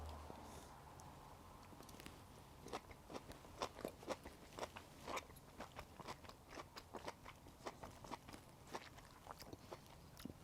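Gobo root dressed with sesame seeds in vinegar is chewed close to the mic, giving a quiet, steady series of soft, moist crunching bites in an irregular rhythm.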